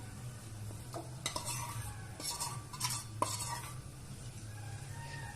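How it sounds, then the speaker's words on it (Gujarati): A spoon scrapes and stirs about 200 grams of desi jaggery melting in ghee in a pan, with irregular clinks and a faint low sizzle beneath a steady hum. "આ રીતે સતત ચલાવી અને થોડો ગોળ ઘી સાથે સરસ રીતે મિક્સ થઈ જાય ત્યાં સુધી"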